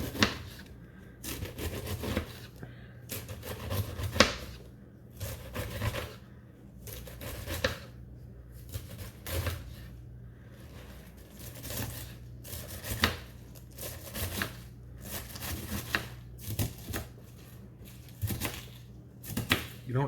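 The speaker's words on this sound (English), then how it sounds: "I am going to chop this up into pieces" A large head of cabbage is chopped into pieces with a knife on a cutting board, producing irregular sharp thuds and crunches, some in quick bursts, spread over about twenty seconds at moderate volume.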